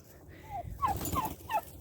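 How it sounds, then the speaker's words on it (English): Turkeys on a farm, foraging in a bare winter garden, gobble in several quick, warbling bursts close by, each call rising and falling, with no talk over them. "There are the turkeys"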